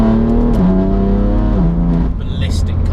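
Loud BMW M4 with a 520 bhp engine revving hard, its harmonic pitch climbing and dropping through two rev sweeps before easing off, close and sustained throughout with talk underneath.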